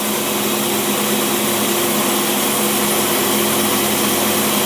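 A carbureted engine fitted with an Edelbrock carburetor runs steadily while warming up on choke in winter, a loud, constant droning roar with no break or change in pace.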